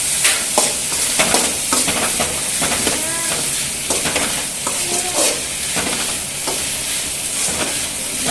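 Turkey berries sauté in hot oil with onion and tomato for a kuzhambu, giving a loud, close sizzle broken by repeated scraping stirs of a spoon against the pan.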